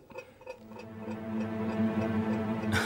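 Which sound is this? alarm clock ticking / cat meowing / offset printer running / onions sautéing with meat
alarm clock ticking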